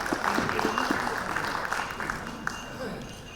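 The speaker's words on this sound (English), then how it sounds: "please. Round of applause." Audience at a public forum on public sector governance applauding a speaker invited to the stage, clapping fading gradually while voices talk over it.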